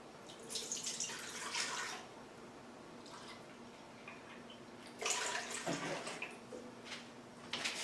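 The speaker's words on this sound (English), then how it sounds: "I'm going to start by putting in 2 cups of whole milk" Two cups of whole milk are poured into a mixing bowl in two separate splashy, liquid pours close by, with a quieter pause between them.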